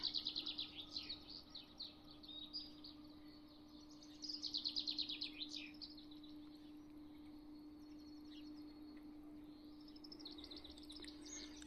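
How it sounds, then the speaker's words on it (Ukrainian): Several birds chirp and trill in short, bright bursts at sunrise on a spring morning, over a quiet background with a steady low hum. "Пташечки співають."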